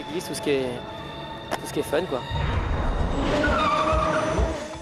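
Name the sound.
stunt car tires skidding while spinning and drifting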